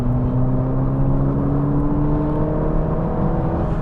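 A turbocharged Mazda MX5, a cheap trackday car, revs on a race track. The engine gives a loud, steady whirring drone whose pitch climbs slowly throughout, with no talking.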